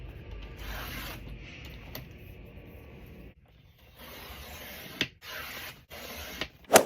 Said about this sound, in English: all papers have been folded in half and creased